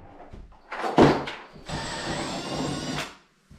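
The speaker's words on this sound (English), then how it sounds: "drill this hole out substantially bigger so we can fit the wee cable piece into the wall there" A power drill bores out a hole in a wall to take a heated towel rail cable, a short whirring burst and then a sustained grinding run of about a second and a half, close and moderately loud, with a few knocks before it.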